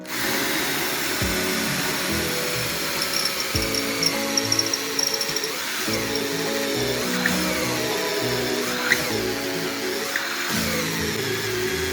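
A 12V cordless drill bores into brick with a gritty, grinding whir, its pitch stepping up and down across several short bursts of drilling, close and without speech.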